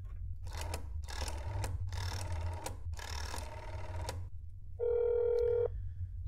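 Telephone ringing in the video game That's Not My Neighbor, four bursts of an electronic trilling ring in a steady rhythm, followed by a brief higher tone after a pause.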